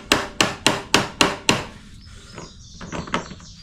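Hammer tapping on the starter of a Toro Personal Pace 22-inch self-propelled electric-start mower: six sharp, evenly spaced metallic knocks, close and loud, followed by softer scraping and handling noises.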